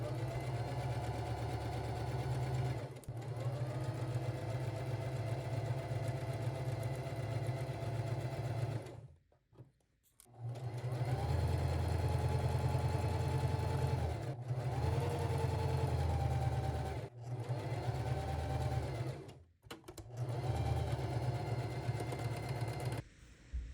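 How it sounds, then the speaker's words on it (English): Sewing machine stitching a seam on skirt lining, a close steady mechanical whir in several long runs separated by brief pauses, with no talk. "Sew at a 1/2 inch seam allowance, and don't forget to back stitch at the beginning and the end."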